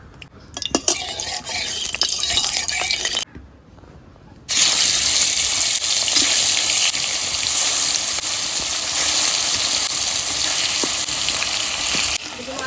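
Frozen fish frying in hot oil in a wok, a loud steady sizzle that runs continuously, briefly quieter after a few seconds of spattering crackle before resuming at full strength.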